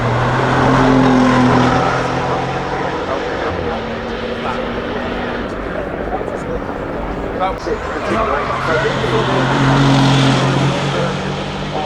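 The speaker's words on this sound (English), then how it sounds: "A vintage racing car from the 2030s, exactly right." A vintage racing car engine screams loudly and steadily, with the sound swelling and fading as it passes, while people talk over it.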